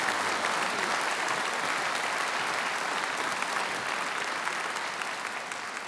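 Audience applause welcoming MIT President Rafael Reif to the podium at the 2014 Tech Day event, steady dense clapping from a large crowd filling the whole stretch without pause.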